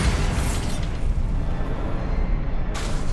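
Bombarda explosion spell in Hogwarts Legacy: a dense, sustained blast roar with heavy low rumble across the whole stretch, then a brighter hiss bursting in near the end.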